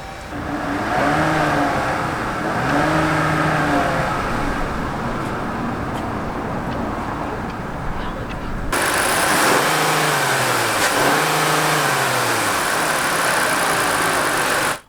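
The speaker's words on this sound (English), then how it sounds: "let's start up this engine for you here, because it sounds actually really good." A 2017 Chrysler Pacifica minivan's 3.6-liter Pentastar V6 engine idles steadily with a low, even rumble, and partway through the sound opens up and brightens, running on continuously throughout.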